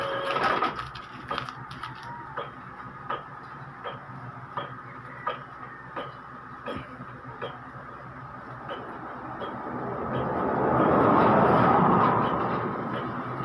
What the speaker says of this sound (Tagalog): testingin natin mag-print ng black